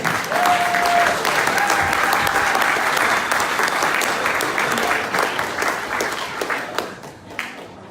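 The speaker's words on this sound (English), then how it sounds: "give them another round of applause" A crowd at a fundraising event breaks into loud sustained applause, dense clapping that fills the room and then tapers off toward the end, with some voices underneath.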